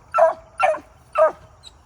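A hunting dog chasing a rabbit gives three loud, evenly spaced barks close by, each a short sharp burst, followed by a faint high yip at the end.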